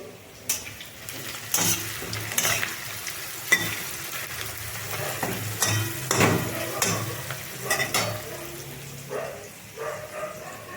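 Spices fry with a soft, steady sizzle while a spoon scrapes and knocks against the pan in irregular strokes.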